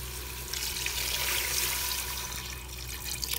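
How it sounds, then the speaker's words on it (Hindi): Water pours steadily into a cooking pot while hareesa is being made, giving a continuous hissing, splashing rush at moderate volume with no talking. "अब हम इसमें पानी डाल देंगे।"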